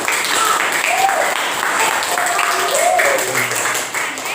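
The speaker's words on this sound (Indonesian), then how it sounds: "Ayo beri tepuk tangan dulu." Classroom applause in a fiqh teaching-practice lesson: steady broadband clapping from a group of students runs throughout, fairly loud and close, with faint voices mixed in.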